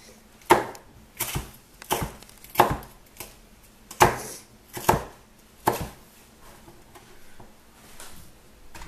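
Knife chopping vegetables on a cutting board for a stir fry, a series of sharp, close, evenly spaced chops in an uneven rhythm, slowing to softer cuts near the end, with no talking.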